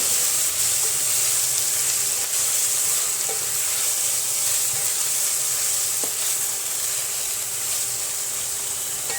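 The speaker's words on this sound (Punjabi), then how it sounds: "ਮਸਾਲੇ ਨੂੰ ਆਪਾਂ ਹੁਣ ਭੁੰਨ ਲਵਾਂਗੇ" Onion and ground spice masala roasting in a pan for a potato pakora curry, with a continuous close sizzle and occasional scrapes of stirring, no voices.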